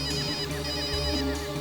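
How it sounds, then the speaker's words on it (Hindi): A mobile phone ringtone plays alone, a steady electronic melody with repeating tones lasting through the whole short stretch, fairly loud and close. "फोन यहीं कहीं बज रहा है"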